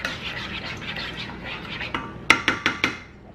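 A utensil scrapes and clinks against a hot pot while scrambled eggs are stirred, with soft scraping first and then four sharp metallic taps near the end, close and clear.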